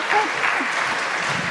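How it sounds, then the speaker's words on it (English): An audience at a talk applauds, a dense, steady patter of clapping that fills the short moment. "So give a big applause for Amy."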